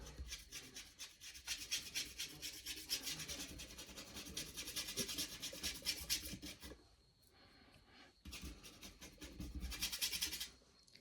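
Brush scrubbing oil paint into canvas with fast rhythmic rasping strokes, close and quiet, pausing briefly twice before the scrubbing resumes.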